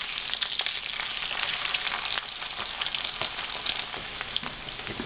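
Eggs fry over easy in coconut oil in a pan, giving a steady, close sizzle with dense crackling pops that continue without pause.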